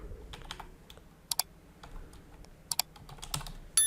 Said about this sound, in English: In the search plugins box, type here user switching